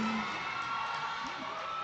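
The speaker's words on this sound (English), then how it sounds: "And the crowd is into it." A basketball crowd cheers and roars during an Audi vs Toyota Alab game in a junior MPBL league, a continuous dense wash of voices with a brief whoop partway through.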